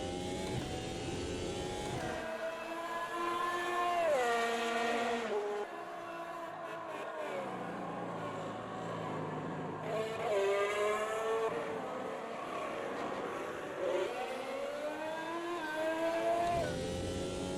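An F1 2022 race car in the Automobilista 2 racing game screams through gears, engine pitch climbing and dropping repeatedly as it brakes hard near lockup and accelerates again, loud and close with no talking.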